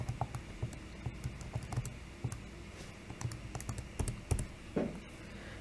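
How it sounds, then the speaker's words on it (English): Numbers being keyed in by hand, a steady run of quiet, close keyboard clicks and taps with brief pauses between groups of keystrokes, and no talking. "We type all that in."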